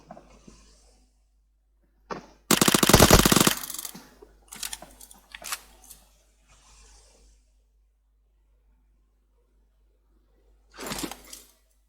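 Gunshots in the PUBG Mobile video game, with a loud sustained burst of rapid fire followed by a few scattered single shots and a final short burst, separated by near silence.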